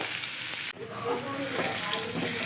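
Potato pieces frying in oil for a chicken biryani, a steady close sizzle with a brief dip near the start and light stirring scrapes over it.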